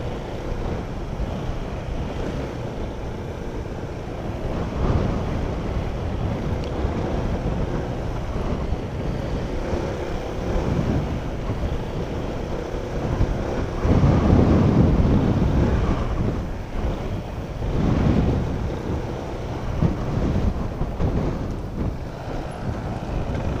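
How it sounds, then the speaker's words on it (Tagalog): Strong wind buffets the microphone in a continuous loud roar, swelling in heavier gusts now and then, with no other clear sounds. "Lakas ng hangin, oh."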